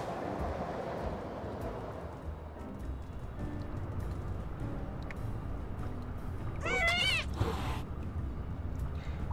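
A cat meows once in Little Kitty, Big City, a short rising and falling call near the end, heard over a steady bed of game ambience.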